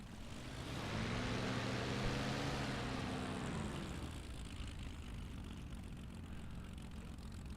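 A propeller aircraft engine in IL-2 Sturmovik swells to a loud, steady drone as the plane takes off, its pitch sliding and then easing into a rougher, fainter hum.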